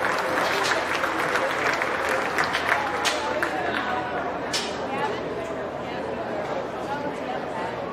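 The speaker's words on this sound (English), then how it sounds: "Give the kids a nice round of applause again." Applause for the children showing pigs at a county fair swine show, with a steady crowd clapping and scattered crowd chatter that slowly eases off over eight seconds.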